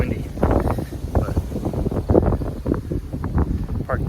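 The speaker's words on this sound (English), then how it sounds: "It's pretty windy" Gusty wind rumbles and buffets the microphone while a person talks over it.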